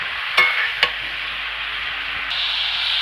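Fish curry ingredients with katla fish, ridge gourd, pumpkin and lentil dumplings get mixed with salt in a pan: a soft, steady hiss with two quick spoon scrapes near the start.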